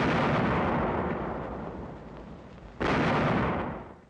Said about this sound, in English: Guns open fire on the German trawler.